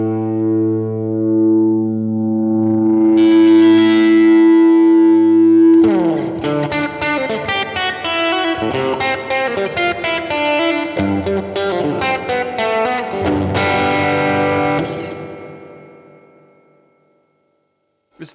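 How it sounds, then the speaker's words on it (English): Electric guitar played through a Vox Mini Superbeetle amp with the reverb turned fully up: a loud sustained chord, then busy picked notes washed in long reverb tails that fade out slowly. "Let's max the reverb and see what that does."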